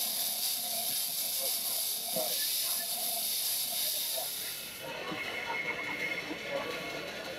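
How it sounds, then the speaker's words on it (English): A small ride-on railroad train runs at a fall fair in Powell River, carrying passengers; a steady steam-like hiss dominates, with faint rumbling movement and a shift in tone partway through as it passes by. "Who wouldn't want to ride a train?"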